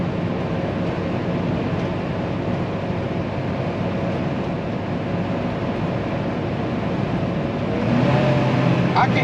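A 2018 Coachmen Freelander 26DS Class C motorhome with a Chevrolet 6.0 V8 climbs a hill, its engine and road noise forming a steady, loud drone throughout that swells slightly near the end.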